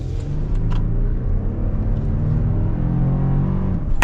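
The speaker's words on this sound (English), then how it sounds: "Full-blown acceleration here." 2022 Toyota Tundra SR5 TRD Off-Road pickup under full-throttle acceleration, a loud, steady engine roar with rising low harmonics heard from inside the cab, no talking.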